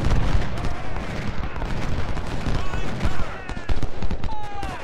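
Cannon and artillery fire in a Civil War strategy game at the Battle of Fredericksburg, a dense, continuous barrage of booming shots and rattling musketry, loud and unbroken throughout.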